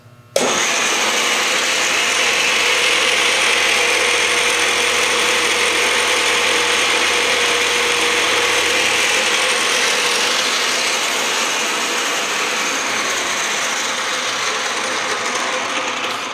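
A Dodds 15-spindle dovetail machine (230V) runs steadily from start to finish, a loud, continuous whirring mechanical drone of motor and gearbox with no speech over it.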